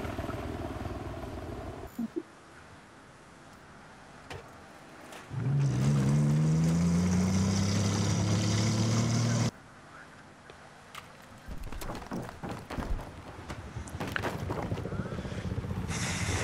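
Game helicopter rotor drone in a military shooter: a loud, steady low whirring thrum swells in abruptly, holds for about four seconds and cuts off, with quieter background noise and scattered clicks before and after.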